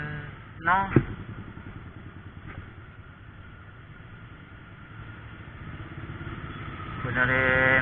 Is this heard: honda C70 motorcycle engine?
yes